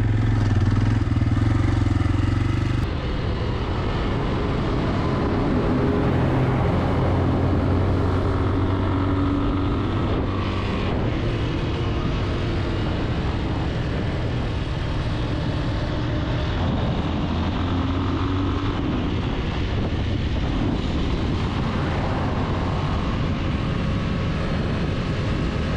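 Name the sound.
motorcycle riding on the road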